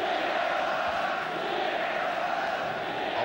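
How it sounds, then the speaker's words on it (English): A dense football crowd at the 1975 FA Cup final between West Ham United and Fulham roars and chants steadily, a broad, loud wash of voices filling the stadium throughout. "The crowd are trying very hard"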